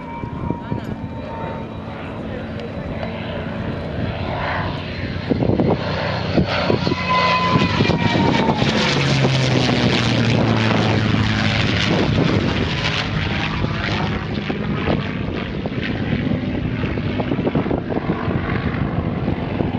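WWII fighter aircraft flying overhead alongside P-38 Lightnings and P-47 Thunderbolts, its propeller engine a loud, steady droning roar that swells and holds throughout, with someone talking over it.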